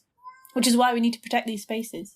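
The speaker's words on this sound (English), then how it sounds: "That is my cat. She's very loud." Pet cat gives a loud, drawn-out meow close to the microphone, starting faintly and swelling into a strong cry, while a person talks over and after it.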